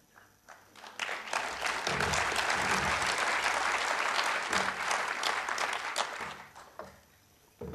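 Applause from the audience at a National Party conference speech swells within a second into sustained, even clapping from a large crowd, holds for several seconds, then tapers off.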